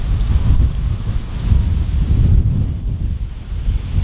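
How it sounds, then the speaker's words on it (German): Strong wind blows hard against a microphone outdoors on a bicycle trip around Switzerland, a loud, continuous low rumble with gusty surges and no voices. "Es ist hier richtig heftig am Winden"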